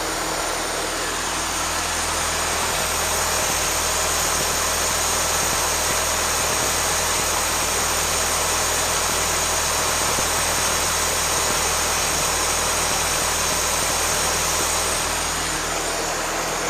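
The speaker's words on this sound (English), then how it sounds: "I just adjusted the valves and the lifters, and that tick has gone away. It's going to get a little loud, but it runs great." Rebuilt Ford 9N tractor engine running steadily after a valve and lifter adjustment, a constant close rumbling idle with no ticking, loud and unbroken throughout with no talking.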